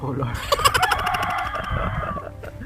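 A rooster crows once, loud and nearby, a long drawn-out call over faint background murmur.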